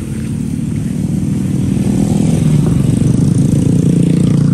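A jumbo 8-shot Roman candle firework, 1.2-inch size, burns steadily after lighting, giving a loud, continuous rumbling roar that stays constant throughout, with no voices.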